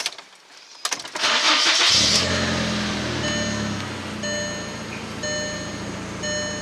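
A 1.8T Mk4 Volkswagen Jetta engine cranks and catches, roaring up loudly before settling into a steady idle with a faint rhythmic ticking on top.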